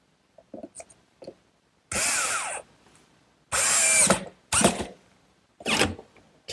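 A power drill drives screws into a wooden bookcase base in four short, loud whirring bursts, with faint workshop knocks before them.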